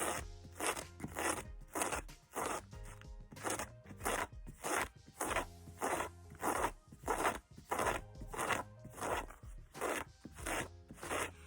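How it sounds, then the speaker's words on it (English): A regular kitchen knife rasps repeatedly across denim to distress it, a steady run of close, scratchy strokes with an even rhythm and no talking. "I have a regular knife from the kitchen, and you're just gonna go like this."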